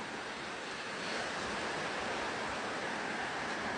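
A river swollen by hurricane rain rushes through Freeman Road in Trelawny, Jamaica, as a dense, continuous roar of churning water that is close and loud, swelling slightly halfway through, with no talking.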